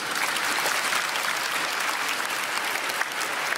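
A crowd claps loudly and continuously at a literary prize award ceremony, a thick even wash of hand claps with no pauses.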